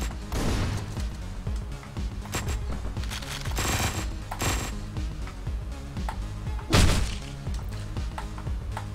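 Gunfire in a video game played with a Steam Controller, made of rapid bursts of shots and thuds over a dense, loud game soundtrack, with one heavier impact near the end.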